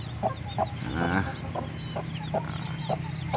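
A mother hen clucks in short, repeated bursts beside her newly hatched chicks, close and moderately loud over a steady low farmyard hum.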